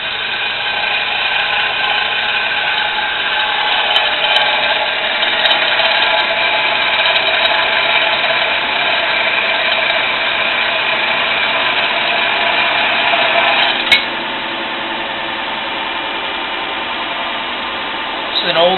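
A crankshaft balancing machine, an older strobe-light-activated vibration analysis unit, spins a crankshaft at a steady, loud mechanical whir with a faint tonal hum. The sound stops abruptly near fourteen seconds and is followed by a quieter drone.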